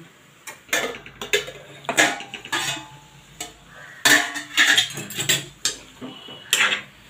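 Metal clatter around a cooking pot as the lid goes on, several sharp close clanks and taps in uneven bursts, with a brighter ringing clink of metal on metal midway, no talking.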